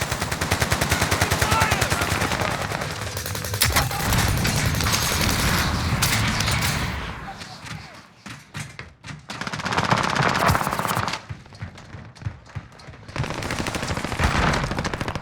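Rapid automatic gunfire from Call of Duty Warzone on the Caldera map, loud and sustained in dense bursts, easing into a quieter gap before more shots and a brief radio-style voice line.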